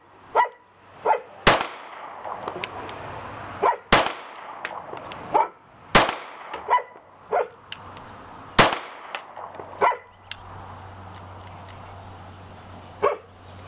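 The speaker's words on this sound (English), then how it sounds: "we've all got a chance to put some rounds through the new Shield 9mm from Smith and" Gunshots from a Smith & Wesson M&P Shield 9mm pistol ring out at a range, with about a dozen sharp, loud reports fired at irregular intervals, some in quick pairs, with no talk between them.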